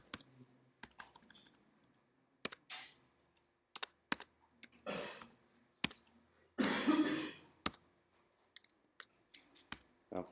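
Bursts of computer keyboard typing come in irregular clusters of rapid clicks, close and fairly loud, separated by short quiet pauses, with a longer rattling burst near the end; the keyboard is faulty.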